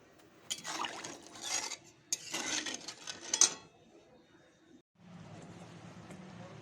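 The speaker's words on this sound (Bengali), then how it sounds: "তো এবার নেড়ে চেড়ে ঢাকা দিয়ে দেবো।" A cooking pot for a thin fish curry is stirred with a few bursts of metal scraping and clinking, then goes quiet before a soft steady simmer is heard under the lid.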